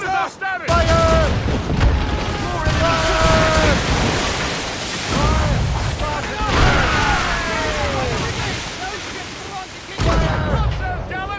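Heavy cannon blasts boom during a naval battle in the video game Assassin's Creed Rogue, several loud broadband bursts with gunfire over a constant din, while voices shout throughout.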